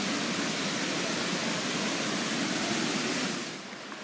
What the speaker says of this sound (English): we've reached the river which runs alongside this park. Like I said before, it's very full.